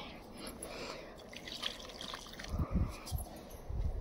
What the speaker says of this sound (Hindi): तो सब में डाल दे रहे पानी।